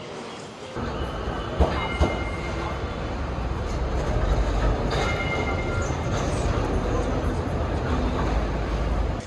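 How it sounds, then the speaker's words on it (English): Melbourne tram riding out from Federation Square, a steady loud rumble of wheels on rail with clattering and occasional squeals throughout, and faint voices in the background. "So I've got the tram now from Federation Square"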